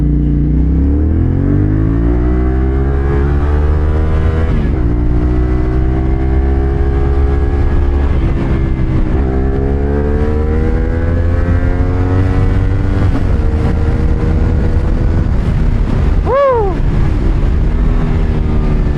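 A CFMOTO 450SR motorcycle engine pulls hard in second gear, its loud droning note climbing steadily with brief dips at shifts or throttle changes, heavy wind rush over the microphone throughout.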